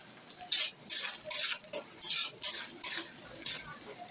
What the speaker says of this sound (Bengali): পেঁয়াজটা দিয়ে এবার একটু ভাজা